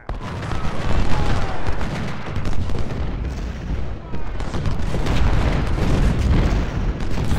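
Dense, rumbling cannon fire from an Ultimate General: Civil War battle at Fredericksburg, with heavy booms overlapping continuously and loud throughout.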